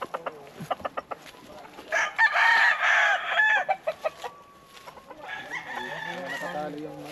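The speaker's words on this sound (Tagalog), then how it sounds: "Nakatali yung manok." A chicken clucks in short bursts, with a louder crow-like call in the middle, then softer clucking and murmuring nearby.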